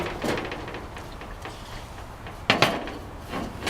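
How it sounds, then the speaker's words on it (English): Lid of a Coleman three-burner liquid fuel camp stove lifted open and its metal fuel tank pulled out, heard as a few hollow metallic clanks and knocks, with a sharp double clatter near the end and no voices. "Open the stove lid and remove the tank."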